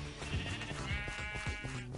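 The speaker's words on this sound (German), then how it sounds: "Ich sehe Schafe." A blocky Minecraft sheep gives several short, close bleats in quick succession over a faint steady background.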